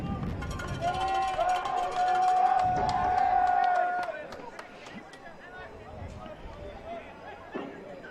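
Spectators at a men's college soccer match, Lenoir-Rhyne versus Lincoln Memorial, cheer and shout from the sidelines, a swell of crowd noise with a sustained whistle-like tone that fades after a few seconds, mixed with nearby talking.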